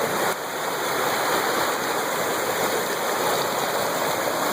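River rushing steadily below a house, a loud, continuous broadband wash of flowing water with no breaks and no voices.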